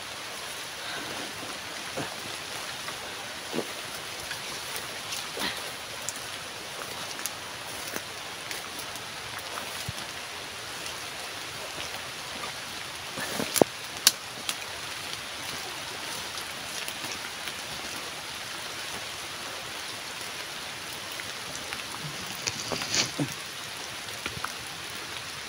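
Heavy rain falling on a mountain, a long steady hiss of drops with scattered sharper close hits and taps on nearby surfaces, no speech.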